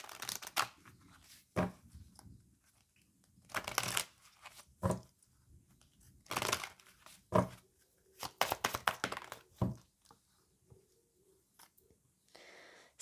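Tarot cards are shuffled in several quick riffling bursts with pauses and soft taps between them, close and clear in a quiet room with no talking.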